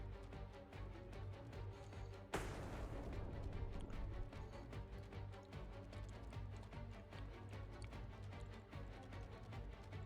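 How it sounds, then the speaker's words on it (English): An aircraft launches a missile in the Xenonauts 2 air combat game: a sharp, loud whoosh-burst cuts in abruptly over a steady rumbling engine bed, then a sustained roar carries on beneath it. "Angel 2 should fire its second missile here"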